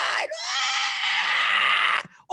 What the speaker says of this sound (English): All kinds of screaming. It was dark and screaming all over the place.